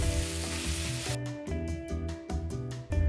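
Onion and capsicum sizzle loudly in hot oil in a pan, a dense continuous frying hiss that gives way to a regular series of stirring scrapes and crackles.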